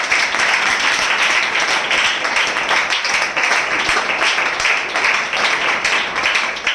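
Congregation at a spiritual passion assembly applauds to welcome listeners, a loud, even and continuous wash of many hands clapping with no talk over it.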